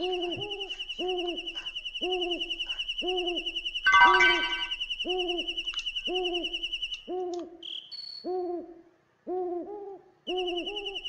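An owl hoots over and over in Breath of Fire III, evenly spaced two-part calls over a steady high chirping insect tone, with a short burst of noise partway through and a brief pause near the end.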